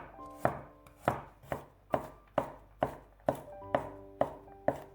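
Garlic cloves being chopped with a knife on a board: about a dozen crisp, evenly paced thuds, close and clear, with nothing else heard.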